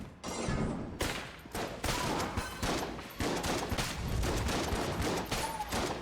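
M1 shotgun firing in the video game Enter the Gungeon, a loud run of punchy blasts in quick succession with brief gaps, dense and continuous over game sounds.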